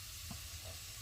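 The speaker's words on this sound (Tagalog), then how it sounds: "gisa na natin ang ating sibuyas" Onions sautéing in a pan, a soft, low, steady sizzle with a faint stir at one point, quiet and close, with no talk.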